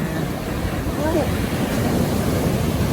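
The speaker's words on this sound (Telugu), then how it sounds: "దగ్గరికి వచ్చేటప్పటికి అలలు చూడు ఎంత వేగంగా ఉన్నాయి" Sea waves at Mypadu beach roll in as a steady, loud wash of surf with wind buffeting the microphone, continuous and broadband throughout without a break.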